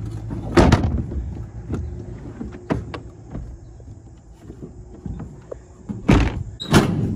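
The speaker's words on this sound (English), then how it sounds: "put the tailgate up" A pickup truck tailgate is lifted and latched shut, giving several sharp metallic clunks and thuds spread across a quiet stretch, with the loudest latch impacts near the end.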